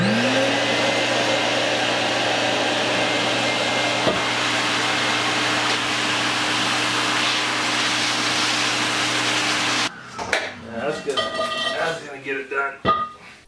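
A home-built budget forge's air blower forces air through its pipe with a steady, loud broadband rush and a low hum for about ten seconds, then cuts off, leaving scattered clanks and handling noises.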